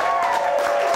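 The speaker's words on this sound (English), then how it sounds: "big round of applause for Steve Schneider" An audience at London Cocktail Week claps and cheers for a bartender, a brief, dense burst of applause from a nearby crowd.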